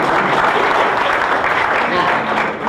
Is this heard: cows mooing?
no